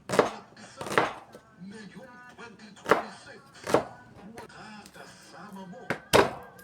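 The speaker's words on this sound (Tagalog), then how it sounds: "Isunod namang hiwain ang sibuyas." Onion being sliced on a chopping board: sharp knife thunks land in irregular bursts, close and distinct, with a voice talking between and under the cuts.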